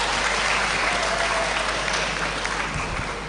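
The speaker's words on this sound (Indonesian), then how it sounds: "Sebelumnya kita tepuk tangan untuk IKIP Bojonegoro." Audience applause at a university philosophy and nationhood forum, a steady dense wash of many hands clapping for the full stretch, fairly loud and even, with no speech over it.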